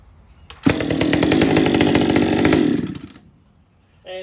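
A Husqvarna 562XP chainsaw with a modified muffler roars loudly at steady revs for a couple of seconds, then winds down to idle and cuts off, with a brief rev at the end.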